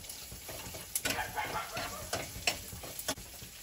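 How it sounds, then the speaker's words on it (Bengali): Nigella seeds, chopped onion and ginger sizzle in hot oil, a faint steady frying hiss broken by quick scraping stirs and light clicks of a utensil against the pan. "তেলের মধ্যে দিচ্ছি কালো জিরে, পেঁয়াজ কুচি"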